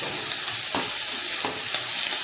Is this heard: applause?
no